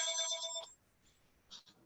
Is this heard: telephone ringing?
yes